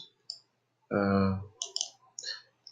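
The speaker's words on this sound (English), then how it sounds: "So actually this is for the click sound." Short button click effects in a menu program, a few sharp clicks mixed with a brief tonal beep and spoken words.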